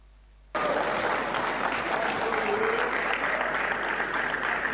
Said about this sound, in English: can we give a louder round of applause to Auchi Central?